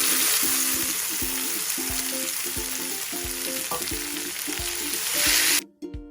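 Tomatoes and whole green chilies fry in a pan for a crab dish, giving a steady loud sizzle with a regular rhythm of stirring knocks, before cutting off abruptly at the end.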